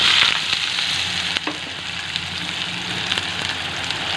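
Onion sizzles in hot oil in a kadai, a dense, continuous crackling fry that stays loud and close throughout with a faint clink near the start and no voices.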